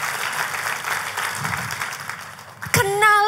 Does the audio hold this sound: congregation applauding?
yes